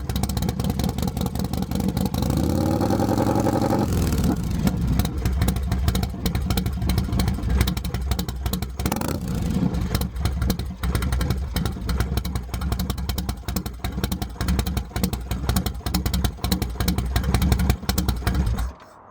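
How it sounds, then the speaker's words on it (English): A 1998 Harley-Davidson Fat Boy 95th Anniversary Edition with a 2-into-1 Vance & Hines pipe revs up from idle, then settles into a loud, deep, rapid lumpy rumble that continues close by until cutting off at the end. "That is a 2-in-1 Vance & Hines pipe, so must be why it sounds so good."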